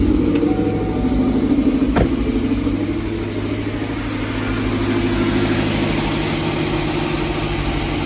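A cammed 5.3 GMC Sierra V8 fitted with equal-length longtube headers runs at a steady idle, loud and close, with a lumpy rumble throughout and a brief sharp knock near the start.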